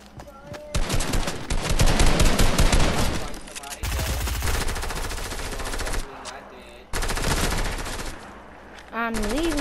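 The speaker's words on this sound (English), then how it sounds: "Stop shooting at me" Fortnite gunfire erupts in loud, rapid bursts of machine-gun fire, several volleys broken by short pauses, with voices shouting briefly between shots.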